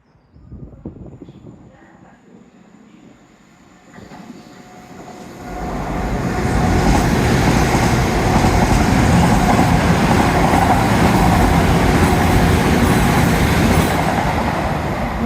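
A passenger train arrives at Dawlish station, starting as a low distant rumble and swelling into a loud, steady roar of wheels and carriages close by.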